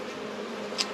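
Steady, close buzzing of many honeybees at a crowded backyard beehive, a continuous hum with one brief louder pass near the end.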